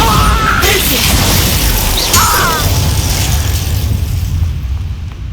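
Bombarda blasting-spell explosions in Hogwarts Legacy, a loud continuous roar of booming, crashing blasts that fills the clip and eases off at the end.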